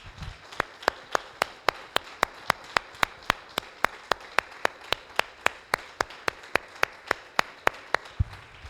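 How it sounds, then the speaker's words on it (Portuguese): A church congregation claps in unison, sharp hand claps landing in an even, quick rhythm for several seconds before stopping. "Dê uma salva de palmas para Jesus."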